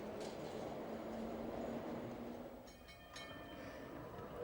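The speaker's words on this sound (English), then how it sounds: "Some people go by underground." An underground train rumbles steadily throughout, faint and continuous, with a low hum and some higher squeals and rattles near the end.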